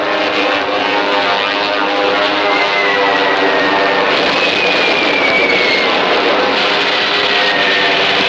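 A Japanese propeller bomber aircraft flying overhead, a loud, steady droning engine roar with a faint whine sweeping across, sustained and close throughout.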